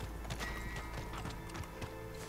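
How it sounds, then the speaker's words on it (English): Horses in Red Dead Online clop their hooves in quick irregular steps and whinny, fairly quiet, over a low game background. "Let's shoot both of these horses."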